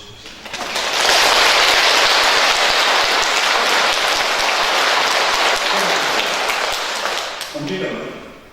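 Church congregation clapping together, rising after a second into a loud, dense wash of applause that holds steady for several seconds before tapering off.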